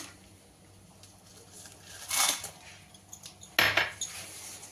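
Dried red chillies dropped into a dry pan for roasting give a couple of light rattling, clattering bursts with soft scraping in between, close by and fairly quiet.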